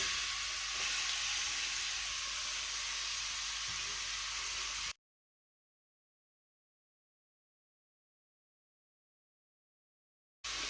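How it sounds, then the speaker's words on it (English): Grated beetroot frying in hot purified butter for a beetroot halwa: a steady, close sizzle for about five seconds, then a long silent gap before the sizzling briefly returns. No talking. "As soon as the purified butter becomes hot, we will add in our grated beetroot."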